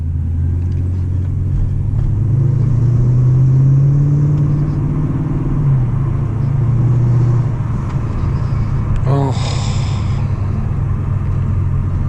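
A 550 hp Mercedes CLS 55 AMG engine drones loudly from inside the car during a power slide, its pitch climbing under throttle, holding, then falling back, with a brief high squeal near the end.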